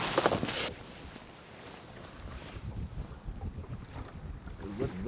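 Wind gusts rumble steadily across an open fishing boat out on the water on a cold winter day, a broad blustery roar with a louder burst at the start and scattered knocks and rustles.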